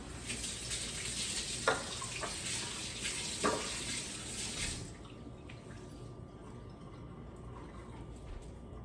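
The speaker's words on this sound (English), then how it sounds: "I'm gonna wash my hands." Hands are washed under a running kitchen sink tap while spaghetti with clams is cooked: a steady close water stream with a couple of splashy hand movements, then the tap cuts off and only quiet room tone remains.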